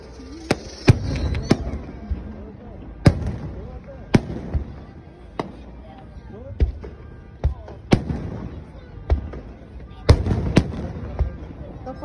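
Fourth of July fireworks at California's Great America pop and bang in sharp, irregular bursts at a distance, some louder than others, with faint crowd chatter underneath.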